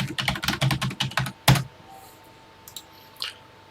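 Fingers tap out a TI-99 BASIC program on a computer keyboard: a quick run of close, crisp keystrokes, then a few scattered clicks after a pause.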